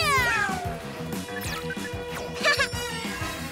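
A cartoon cat lets out a loud meow and a drawn-out yowl in a PJ Masks Christmas episode, set over a steady, rhythmic music bed.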